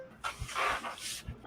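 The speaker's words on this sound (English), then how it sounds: "till his dog calms down" Dog panting and giving a short bark in an indoor shop, heard up close with breathy hissing bursts and a couple of low thumps, no talking.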